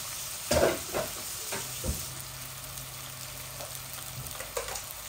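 Chopped onions, including some blended onion paste, frying in a pan for a chicken and potato curry, with a soft steady sizzle broken by a few louder stirring scrapes and clatters near the start.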